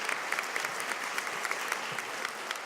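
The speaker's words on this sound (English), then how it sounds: "We can clap one more time." A graduation audience at a nursing school commencement claps steadily in a dense, continuous round of applause heard alone, even and sustained throughout.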